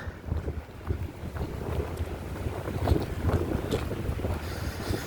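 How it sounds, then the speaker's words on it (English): Steady gusting wind buffets the microphone, a low rumbling roar that swells and fades continuously with no voices. "Yeah, it's definitely windy down here"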